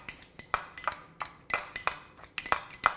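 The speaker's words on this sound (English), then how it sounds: "Easiest way for me to do that is to just snip it with our kitchen shears in our little prep bowl." Kitchen shears snip cilantro inside a small prep bowl, making a quick run of sharp, close metallic clicks and light clinks in an uneven rhythm, with no talking.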